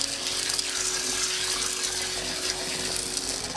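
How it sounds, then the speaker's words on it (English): Running water rinsing brown lentils, a steady close gush with no pauses and no talking. "Let's begin washing brown lentil, and we're gonna let it soak for about 10 minutes or so."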